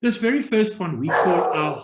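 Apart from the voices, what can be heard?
dog barking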